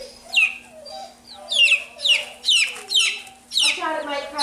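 A small chick held in the hand gives repeated high, chirpy clucks, about seven bursts in steady succession, close and clear over a faint steady hum.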